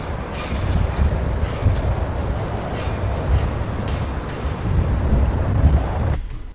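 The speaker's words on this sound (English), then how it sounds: "The wind's blowing and there's some really deep bass frequency information in there." Wind blowing in an outdoor field recording, a steady broadband rush with heavy low rumble and buffeting against the microphone, loud and continuous, no voices.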